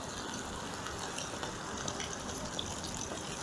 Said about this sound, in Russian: И теперь покрываем все это водой.